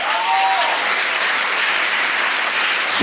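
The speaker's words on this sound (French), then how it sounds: "merci d'applaudir très fort" An audience applauds a communications team member at a show event, with steady, dense clapping that stays loud and even across the whole stretch and has no talk over it.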